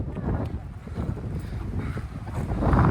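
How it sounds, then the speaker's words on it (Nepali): Strong wind gusting through Ault Park in Cincinnati, Ohio, roaring steadily as broadband noise across the microphone and swelling louder near the end, with no clear talk. "हावा पुरा चलिरहेछ"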